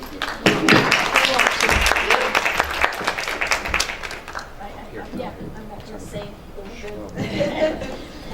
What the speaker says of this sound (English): Let's give Dave Lawrence another round of applause, please.